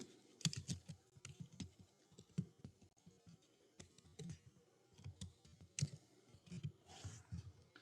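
Rapid, uneven keystrokes on a computer keyboard while entering a table title in Microsoft Word, close and fairly quiet, with irregular clusters of clicks and no talking.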